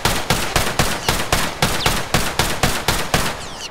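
Rapid turbo-speed gunfire at a wall in The Last of Us, a loud, evenly spaced stream of about a dozen shots roughly every third of a second, with no voices.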